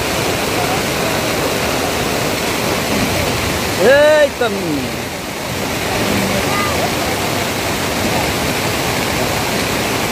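Floodwater rushes loudly and continuously at a bridge on a swollen river, a steady roaring wash that fills the scene, while a man briefly exclaims over it midway.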